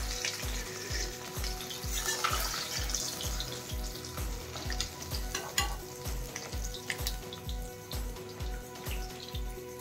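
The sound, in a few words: fish pieces frying in oil with amara (hog plum)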